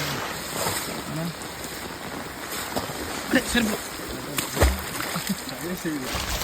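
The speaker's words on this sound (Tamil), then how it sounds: "தண்ணி இப்படி ஓடுறது பார்க்க ஒரு டிஃப்ரெண்ட் ஃபீலாக இருக்குண்ணே" Floodwater from heavy rain flows through a Sri Lankan village street, a continuous close rushing with a few splashy surges, while someone talks over it.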